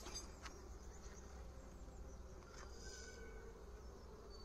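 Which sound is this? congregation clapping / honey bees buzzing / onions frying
honey bees buzzing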